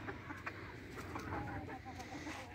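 A rooster and hens cluck and squawk in a backyard farm flock, with irregular close bursts of clucking over a busy background of other fowl and livestock.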